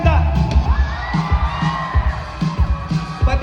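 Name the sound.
crowd shouting and cheering at Fisher Mall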